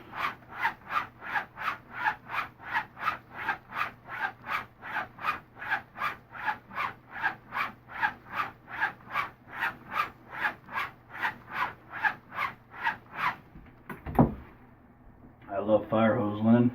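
A straight razor blade is drawn in steady back-and-forth laps on fire hose linen, making a rhythmic series of close, even rasping strokes roughly twice per second, followed by a brief thud and a voice.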